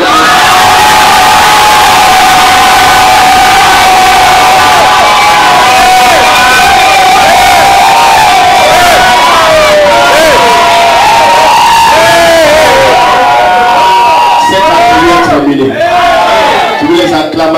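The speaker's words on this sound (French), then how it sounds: "si tu es d'accord, lève-toi et crie comme un baron" A large crowd stands and shouts loudly for the full stretch, a dense and sustained roar of cheering and battle-cry whoops with mixed high voices and no pauses.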